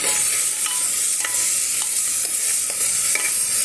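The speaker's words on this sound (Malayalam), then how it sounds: "ഞാൻ ഒരു ഇച്ചിരി ഉപ്പ് പൊടി കൂടി ഇട്ട് കൊടുക്കാം അപ്പം സവാള പെട്ടെന്ന് വഴണ്ട് വരും" Onions sautéing with salt in a pan for a vegetable kurma, with a steady bright sizzle and periodic stirring scrapes throughout and no talk.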